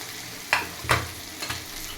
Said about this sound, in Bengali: টমেটো কুচিগুলো দিয়ে ভালো করে নিয়ে নেবো